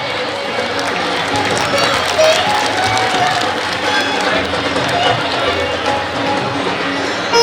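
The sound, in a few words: audience applause welcoming a guest at a temple festival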